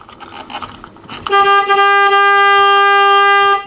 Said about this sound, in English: The horns on this bus are now working.